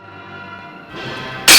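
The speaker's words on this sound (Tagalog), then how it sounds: "Ay, natinag kumatan ti baso." A drinking glass falls and shatters indoors: a sudden loud, bright crash bursts in at the very end after a quieter stretch of low background sound.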